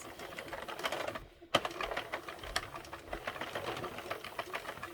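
A 32-pin Mushroom House knitting machine knits a clutch, giving a steady run of rattling mechanical clatter with a short quiet pause and a sharp clack partway through, close and fairly loud.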